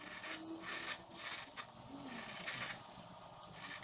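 A 12 mm number 7 woodcarving chisel scrapes and pares into wood in a series of short, dry rasping strokes, close and fairly quiet, with brief pauses between cuts.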